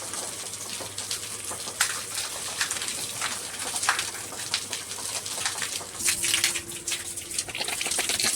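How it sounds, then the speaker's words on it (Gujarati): A hose sprays water across a dusty yard during Sunday house cleaning, a continuous close gushing and splashing with birds calling in the background. "તો આ છે ને આ બધે નળીથી ધોવાનું છે"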